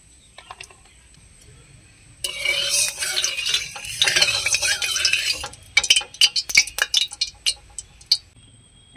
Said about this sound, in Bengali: সাদা তেল দিয়ে বড়াগুলোকে ভেজে নেব